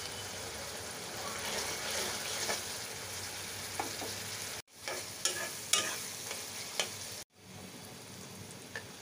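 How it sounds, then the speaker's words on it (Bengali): Onions, turmeric and salt fry for fish curry in a pan, giving a constant close sizzle with scraping stir sounds and brief breaks, and some talk faintly in the background. "তো মাছ রান্না করার জন্য আমি আগে পেঁয়াজ ভেজে নিচ্ছি"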